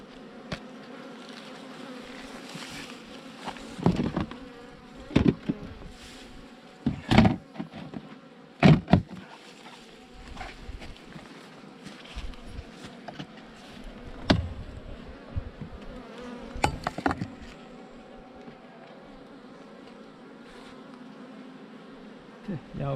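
Honey bees buzz around an open beehive during a honey harvest, a steady close hum broken by sharp knocks and scrapes of hive frames, with no talking.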